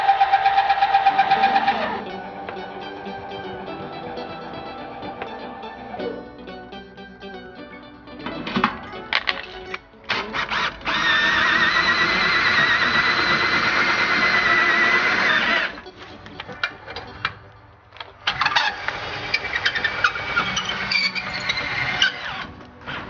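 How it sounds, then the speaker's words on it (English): Stabilizer jacks on an RV trailer are lowered at a campsite, producing a loud mechanical motor whine in several long bursts separated by quieter gaps and clunks. "we can put down the stabilizer jacks to make sure that there's no shake in the trailer"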